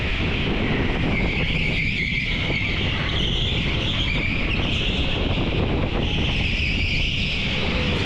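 Electric karts racing on the TeamSport Crawley indoor track heard from the driver's seat, a constant loud rush of wind and tyre noise with a high electric motor whine rising and falling through turns.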